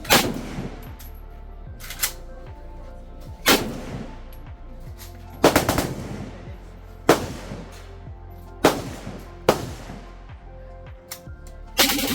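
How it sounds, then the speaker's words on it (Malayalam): Loud AK-47 rifle shots ring out at a shooting range in Ho Chi Minh City, Vietnam, about eight single reports spaced a second or two apart, each a sharp crack with a booming echo over a steady low background rumble. "നമ്മൾ AK-47 ട്രൈ ചെയ്യാൻ പോവാണ്"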